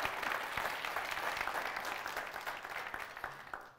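An audience at a pitch session applauds, dense steady clapping from many hands, loud at first and tapering slightly toward the end.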